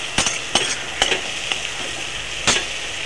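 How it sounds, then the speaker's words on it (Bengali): Spices sizzle in a hot pan, turmeric and Kashmiri chili powder frying for a bitter gourd chorchori. A steady close sizzle runs under about five scraping stirs at irregular intervals, and nobody speaks. "কালার হওয়ার জন্য একটু কাশ্মীরি লঙ্কার গুঁড়ো দেবো। দিয়ে ওটাকে কষিয়ে নেব।"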